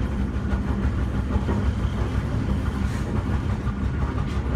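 A passenger train arriving at Rawang station in Malaysia gives a steady, close rumbling roar of wheels and engine, continuous and fairly even, with no talk.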